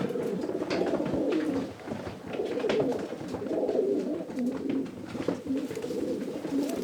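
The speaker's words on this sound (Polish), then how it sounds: "Tak wygląda ten gołąb." Soft, repeated cooing of a Janssen racing pigeon rolls on steadily at close range, low throaty calls overlapping with faint rustling and no speech.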